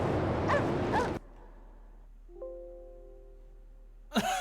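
Dogs in the video game Resident Evil 2 give a loud close bark-like burst, then a short whimpering whine, then a brief final yelp.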